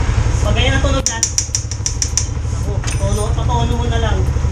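A small engine idles with a fast, light mechanical ticking from the rocker arms over its low rumble, a burst of sharper clicks partway through, and a voice talking over it.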